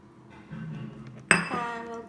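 Flour, salt and oil are stirred in a bowl, with soft scraping followed by a sharp clink of a utensil against the bowl and a ringing tail, then another brief knock at the end.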